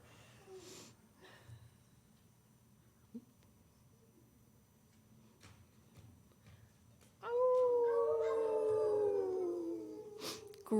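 After several seconds of near quiet with faint shuffles, a single wolf howl rises loud and close, a long sustained wavering tone that slowly falls and holds for about three seconds before fading.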